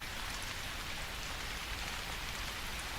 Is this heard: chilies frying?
no